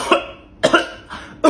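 Three sharp coughs from one person close by, spaced apart, with a short gap of quiet between each.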